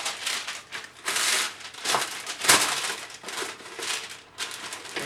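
Crinkly baking paper being handled and torn, with repeated rustling bursts and one sharp crackle, close by and no talking.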